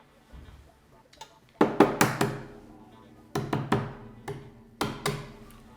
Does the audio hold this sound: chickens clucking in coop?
no